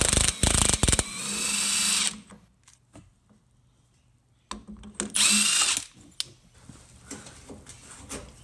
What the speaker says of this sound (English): that last clip of me removing the body mount bolts